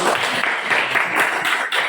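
A brief burst of steady applause from a group clapping together, dense and even throughout.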